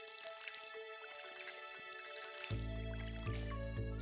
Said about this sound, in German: Und wir gießen unsere Pflanzen.